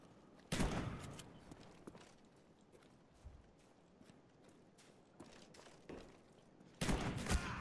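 Gunfire in a shooter video game: two loud, harsh bursts of shots several seconds apart, with scattered fainter pops and thuds between them over a quiet background.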